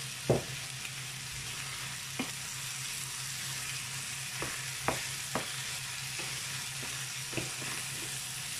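Girolle mushrooms fry in a pan with a continuous sizzle and hiss. Occasional utensil scrapes and taps break in as they are stirred, all close up.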